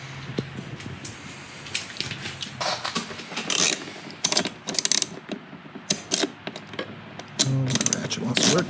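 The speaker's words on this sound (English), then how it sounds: "Ratchet wants to work." Ratchet working a bolt during installation of a 2020 KTM XABR system on a motorcycle, giving bursts of quick mechanical clicking and ratcheting at close range, with brief pauses between strokes and no talking.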